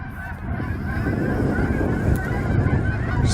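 A large flock of geese honks continuously in the distance outdoors near a shop, a dense overlapping chorus that holds steady and grows slightly louder.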